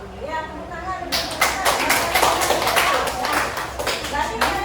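An audience claps for a presenter in an Indonesian computing lesson, a dense patter of hands starting after about a second and running steadily to the end, with speech over the opening moment.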